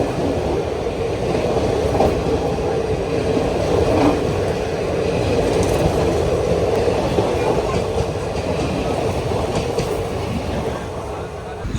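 Aboard the Guruvayur–Chennai Egmore Express, a steady loud rumble of the running train fills the whole stretch, with faint clicking of wheels over rail joints and a voice talking underneath.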